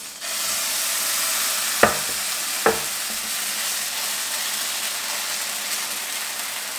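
Fenugreek dosa batter sizzling on an oiled pan, an even close hiss broken by two sharp clicks of a utensil, no voices.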